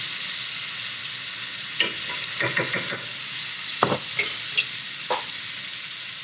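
A cornstarch mixture stirred in a pan in a home kitchen, with a steady background hiss and a series of short clicks and scrapes from the spoon against the pan.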